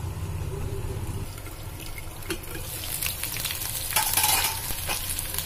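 Moringa drumsticks and potato pieces roast in a pan, a low continuous sizzle with a few scraping stirs and a brighter, splashier burst near the end.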